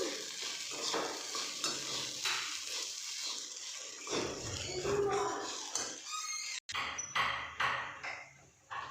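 Sago mixture for sabudana khichdi is stirred with a utensil in a pot, giving a steady scraping and clinking with brief pauses, close and moderately loud, with a faint sizzle in places.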